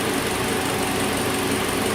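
Hyundai Elantra engine idling inside a shop, a steady broadband hum with no change in rhythm, close and fairly loud on its own.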